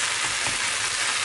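Minced meat fries in a pan with a steady, close hiss and crackle of sizzling fat, unbroken and on its own.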